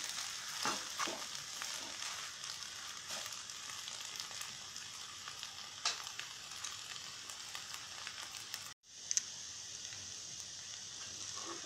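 Fish roe mixed with ground fennel paste in a frying pan sizzles steadily with soft scraping stir strokes, a continuous close hiss that briefly cuts out near the end before resuming.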